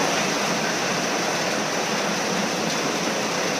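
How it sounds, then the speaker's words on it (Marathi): Heavy monsoon rain in Kerala pours down as a dense, unbroken roar of hiss, steady and loud from start to finish with no voices. "जबरदस्त जबरदस्त पाऊस पाऊस"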